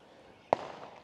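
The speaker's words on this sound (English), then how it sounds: "Someone's got fireworks going." A single firework bangs sharply at a distance in an outdoor setting, a brief crack followed by a short fading rumble over quiet background.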